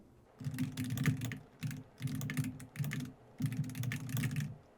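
Bursts of keyboard typing in several runs separated by short pauses, close and fairly loud, as a diary entry is typed out.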